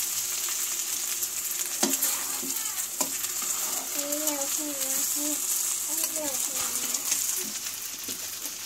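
Rice frying in a pan for egg biryani, a steady soft sizzle with occasional stirring scrapes, while a person talks over the cooking.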